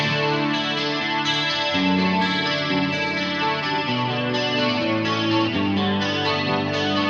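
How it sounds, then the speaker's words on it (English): Squier J Mascis signature Jazzmaster electric guitar played through effects with chorus and distortion, sustained chords and melodic notes ringing steadily and loud, with no voices. "This is a Squier J Mascis signature Jazzmaster."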